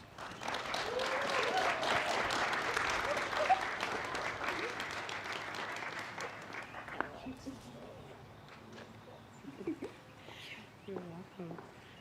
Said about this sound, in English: Can we give Dereka another round of applause?